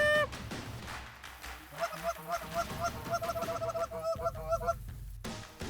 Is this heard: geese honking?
yes